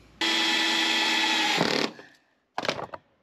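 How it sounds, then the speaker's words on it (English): A power tool, likely a drill or driver, drives screws into wood: a steady loud whine runs for over a second and a half, winds down, then a short second burst follows after a pause. "screw in 440 screws"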